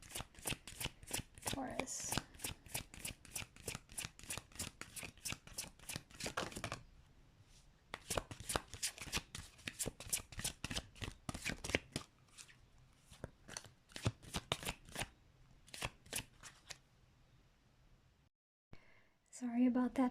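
Repeated rapid riffles and snaps of tarot cards being shuffled in bursts, close by, with a brief spoken word and a pause near the end.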